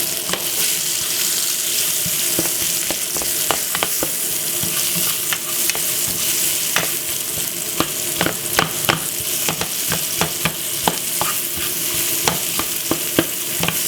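Red onion fries in a pan with a constant loud sizzle, broken by frequent scraping, clicking strokes as it is stirred.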